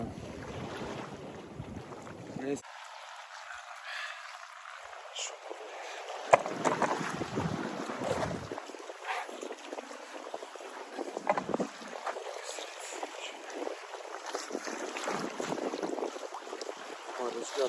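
Loud, gusty wind buffets the microphone throughout while fishing for bluefish, roaring and fluctuating with rustling bursts near the water.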